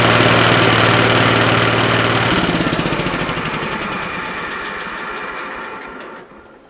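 A 1970 Sears Suburban SS14 lawn tractor engine cranks briefly, then catches and settles into a steady, loud, rough-running idle that gradually fades slightly, with no talking.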